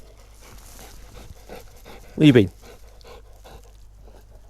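A dog pants close by, with one brief louder huff in the middle, while someone speaks briefly.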